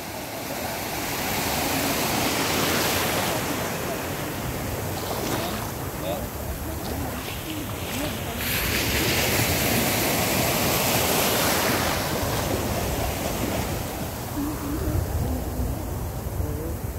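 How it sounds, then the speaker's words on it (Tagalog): Ocean waves wash onto a beach in a steady roar of surf and wind, with voices calling out over the noise. "Ops, ayan na yung alon oh."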